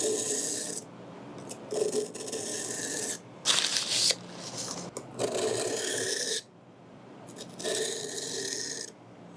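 The back of a blade is rubbed across a Tri-Hone sharpening stone, several slow rasping strokes of steel on stone separated by short pauses, close and clear with no talking.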